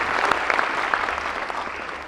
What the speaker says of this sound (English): Can I ask for another round of applause before I start, just for the dancers tonight